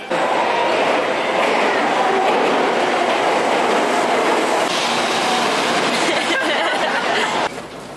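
A train in Japan rumbles continuously along the rails with a steady rushing roar and faint clacking, heard loudly from inside a carriage, with voices faint beneath it.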